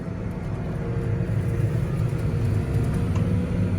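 A Bateman sprayer drives through an oilseed rape field and makes a steady, close, low engine rumble and drone throughout, with no voices.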